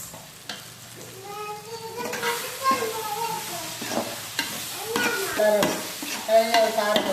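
Dried fish and onions being stirred and fried in a pan for dry fish gravy produce repeated spoon scrapes and clatters over a continuous sizzle, fairly close and loud.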